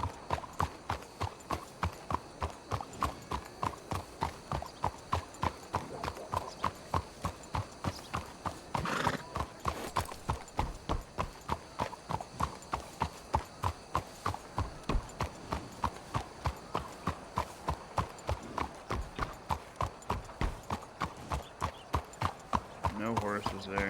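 Horse hooves clip-clop steadily in Red Dead Redemption 2 roleplay while riding, a continuous even gait with a brief whinny partway through, moderately quiet and close.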